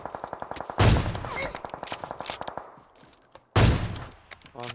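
Gunfire in the mobile battle royale game PUBG Mobile: rapid, evenly spaced shots crackle in a steady rhythm, broken by two louder, heavier blasts that ring out and fade before the firing resumes.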